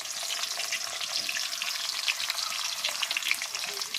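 Onions frying in hot oil in a home kitchen, a steady, close crackling sizzle with constant spitting pops and faint stirring throughout.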